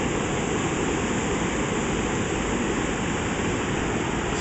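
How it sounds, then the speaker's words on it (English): A creek swollen by heavy rain and fed by sewer drainage rushes steadily nearby, a loud, continuous broadband roar of flowing water with no pauses and no voices. "there's more water again draining down in there"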